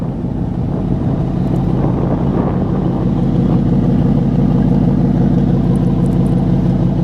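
Exhaust from a 2018 Ford Mustang GT Roush Stage 3 gives a loud, deep, continuous idle rumble close to the microphone, with some wind buffeting.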